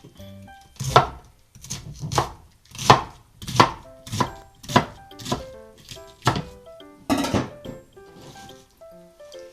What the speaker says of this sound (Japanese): はい、4分の1切りました。